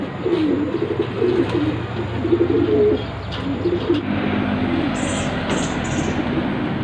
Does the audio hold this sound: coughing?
no